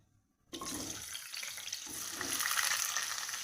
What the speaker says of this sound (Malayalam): എണ്ണ ചൂടാകുമ്പോൾ ഇതിലോട്ട് നമുക്ക് നമ്മുടെ കപ്പയ്ക്കായിട്ട് നല്ലതായിട്ട് വഴറ്റിയെടുക്കാം